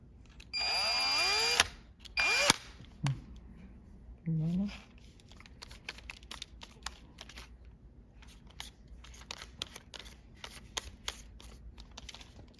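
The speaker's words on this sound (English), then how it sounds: "Then you just kind of drill one hole right here." A small drill whirs in a couple of short bursts, drilling a hole in a Ring wireless sensor, then light tapping and handling noises follow, with a voice talking quietly in between.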